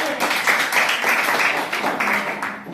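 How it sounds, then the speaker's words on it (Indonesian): A classroom of students claps for a classmate after her answer, a short, steady round of fairly loud, close clapping from a small group that holds evenly and tapers at the end. "Kasih tepuk tangan untuk Zeni"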